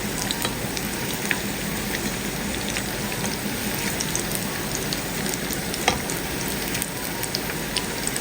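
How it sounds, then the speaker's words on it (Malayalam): Chicken Russian doughnuts fry in hot oil with a steady, close crackling sizzle full of fine pops that keeps an even level throughout, and no voices are heard. "ഒരുമിച്ചിടാതെ കുറച്ചിട്ട് ഇതുപോലെ ഒന്ന് 2 വശവും മൊരിച്ചെടുക്കാം"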